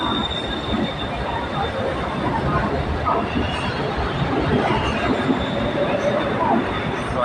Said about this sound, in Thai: งามเลยรถไฟฟ้า BTS สาสีลมครับ